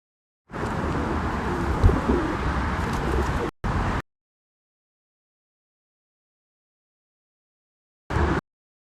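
Pigeons coo in New York City on a summer day, a few seconds of soft, low, close calls that cut off, followed by silence and a brief burst near the end.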